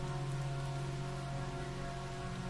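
Steady rain falls onto soil in a continuous, even hiss of countless drops with no pauses, heard alone and at a constant moderate level throughout.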